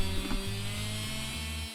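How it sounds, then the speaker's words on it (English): A power sander buzzes against large wooden blocks being shaped into yard dice, a close, steady electric hum with low-pitched stutters as the tool shifts across the wood. "And here's some of the big ones getting sanded."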